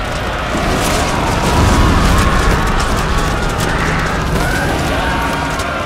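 Volley fire during a Total War: Shogun 2 battle in an Imjin War mod, heard as a dense, continuous roar of booms and crackling bursts with sustained rumble and scattered sharp pops throughout.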